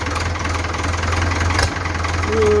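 An old Ford farm tractor engine idles steadily and close by, with a low, even throb and a rough mechanical rattle that stays constant throughout.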